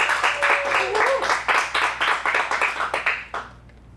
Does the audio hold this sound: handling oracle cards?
no